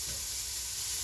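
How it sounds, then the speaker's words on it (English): Onion sautéing in olive oil for a chicken and mustard green soup, a brief, even, bright sizzle with a low rumble beneath, close and steady, with no speech. "we're going to saute the onion"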